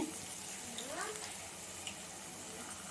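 Four chillies fry in medium-hot oil while palak gobi is cooked, a faint, steady sizzle with light crackling and a brief stirring scrape near the start, no talking.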